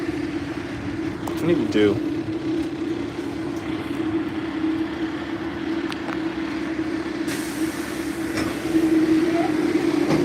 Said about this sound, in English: Like that door release sound